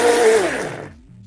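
A kitchen blender whirs loudly, mixing condensed milk and lime juice for a lime pie filling, then winds down and stops within about a second.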